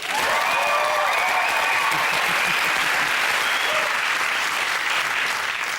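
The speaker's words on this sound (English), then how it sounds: "Oh, round of applause." Loud, sustained studio audience applause on a comedy panel show, a thick continuous roar of clapping with whoops and a few voices mixed in over it.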